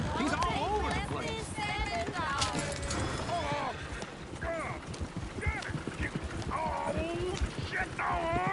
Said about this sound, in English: Shit, the horses!